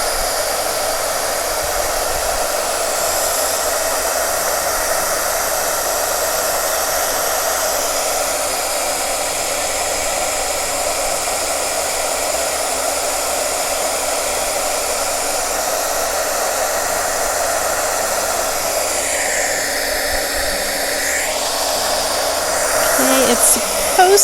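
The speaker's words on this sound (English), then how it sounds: "I have not turned my heat gun on yet, so it's still cold." A heat gun blows onto Shrinky Dinks plastic set in a pan, giving a loud, steady blowing hiss that runs continuously, with a short clatter at the very end.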